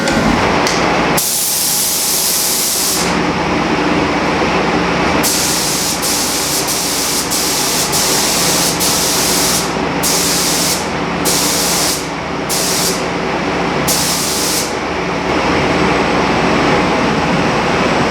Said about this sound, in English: Now we're going to spray it on 3, maybe 4 coats depending on coverage, and then clear coat.